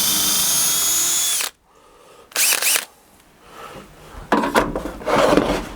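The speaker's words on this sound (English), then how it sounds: "Put it in, bring it up just a hair, start your drill, go down." A power drill bores into wood while venting a tiny house range hood, a loud whine that cuts off, then several shorter bursts of drilling and rasping with pauses between.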